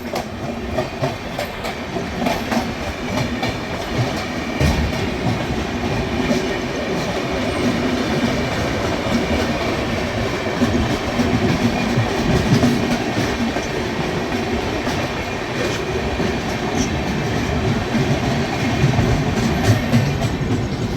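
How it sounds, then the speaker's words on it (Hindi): The CSMT–Lucknow Pushpak Express passes close by at speed, a steady loud rumble of railcars with clickety-clack wheel beats and light squeal, heard in India near Bina Junction. "ये गई पुष्पक एक्सप्रेस।"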